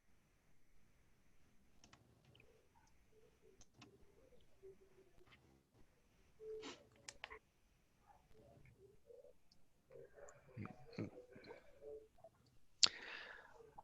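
Computer keyboard being typed on, faint scattered clicks and short bursts of keystrokes in an otherwise quiet room, with soft bird-like coos mixed in and a sharp click near the end.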